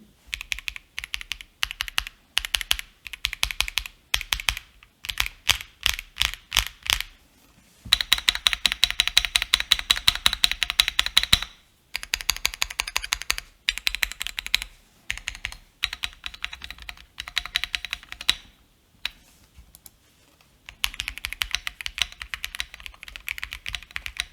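Steady bursts of clacky typing on a MonsGeek M1 mechanical keyboard with tape mod, close and crisp, with brief pauses between runs of keystrokes.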